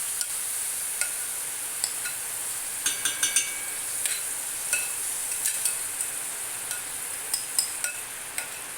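Mango pulp sautéing in ghee for a mango payasam, a faint soft sizzle beneath repeated light scraping and clinking of a spoon against the pan at an uneven pace.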